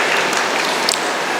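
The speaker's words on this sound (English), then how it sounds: "Another big round of applause to Ms. Rizwana" Sustained applause from an audience at a college of pharmacy annual day celebration, a dense steady patter of clapping hands with no talk.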